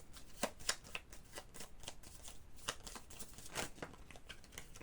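Tarot cards being shuffled and drawn by hand, giving quick papery riffles and flicks in irregular bursts, close and fairly quiet, with no talking.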